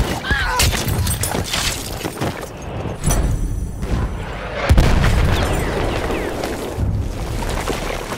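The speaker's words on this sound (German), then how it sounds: "Vorsicht, Jungs, ich werfe eine Granate!" Grenade blasts in the Battlefield 1 Argonne Forest conquest battle, booming explosions with shattering debris amid constant battlefield noise and gunfire, with voices shouting.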